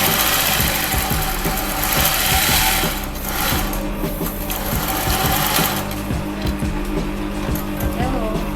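A sewing machine hums through rapid, steady stitching as a set-in sleeve is made up and its edge finished, with the motor running close and continuous throughout and only brief slight changes in pace.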